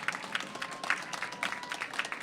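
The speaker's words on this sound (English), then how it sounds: "Let's give Cara a round of applause for all of her great work for the Kids Museum" Scattered, fairly faint applause from an audience at an outdoor festival, with individual claps standing out in an uneven patter rather than a dense roar.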